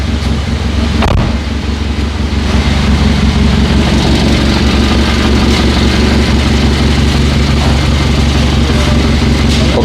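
A Hyundai Sonata engine with a knock sensor code fault runs steadily and loud, a continuous low idle drone held close for the whole stretch with no voices over it.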